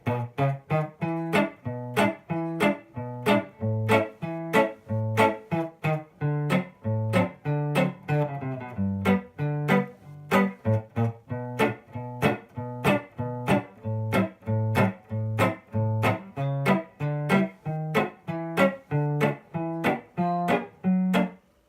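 Guitar chords strummed in a steady, repeating rhythm through a progression resolving to E, each chord ringing briefly before the next, played close and alone with no voices.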